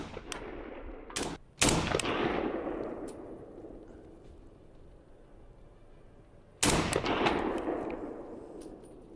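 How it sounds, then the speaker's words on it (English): Several gunshots fired into a concrete barrier: a few sharp reports close together near the start, then another loud shot later, each followed by a long, rolling echo decaying into quiet. "I fired off a bunch of shots into a concrete barrier to see how the weapon would perform"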